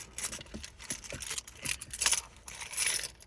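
A large bunch of keys, handled during a walk-around of a personal Toyota Corolla, jangles and clinks in several short, bright bursts close to the listener.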